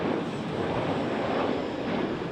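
Airliner taking off at Tampa International Airport, a steady loud roar of engine noise with no voices.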